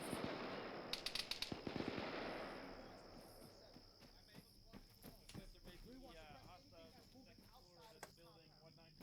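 Distant gunfire from the military shooter ArmA 3 crackles in quick bursts, loudest early then sporadic, as radio-style voices talk over the faint rattle.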